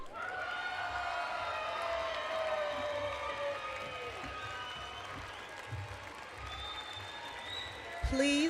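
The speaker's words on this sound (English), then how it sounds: "Please give a round of applause to our 2017 MSW graduates." Sustained applause and cheering rise from a crowd at a university graduate convocation honoring social work graduates, steady clapping under a sounding tone and murmuring voices, fairly distant and soft.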